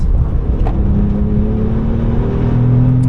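A track car holds full throttle through the Nürburgring Carousel, its engine a loud, steady, close drone with a rising tone and no voices over it.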